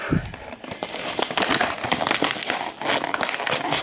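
Gift-wrapping paper crinkles and crackles as a Schleich package is unwrapped by hand, a busy run of close, irregular rustles and tearing bursts with no speech.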